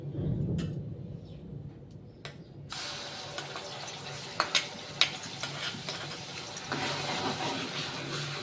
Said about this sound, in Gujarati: હવે આપણે આ જ તેલમાં શાકનો વઘાર કરી લઈએ તેલ આપણું ગરમ જ છે તો સૌપ્રથમ આપણે ડુંગળી એડ કરીશું